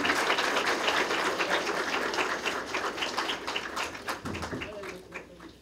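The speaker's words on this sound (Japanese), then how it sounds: "どうぞ皆さん拍手で送ってください。" A crowd claps steadily for several seconds, dense and fairly loud, thinning slightly toward the end, at a campaign office opening in Okinawa.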